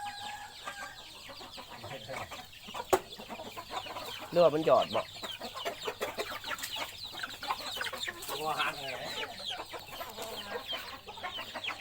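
Chickens on a small chicken-breeding farm cluck and call in a steady scatter of short notes, with a rooster-like call now and then, while someone talks close by throughout.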